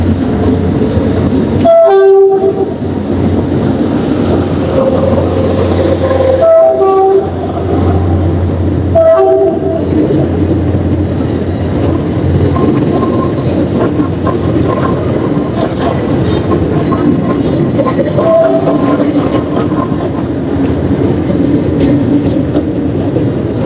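An LRT train passes beneath a city boulevard, its wheels rumbling and squealing with clacks and a horn-like tone near the start, a steady loud rail rumble continuing throughout with no talk.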